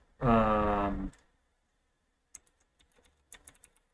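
Light typing on a computer keyboard during a coding session: a brief voiced sound comes first, then a few soft, scattered keystroke clicks follow in quiet.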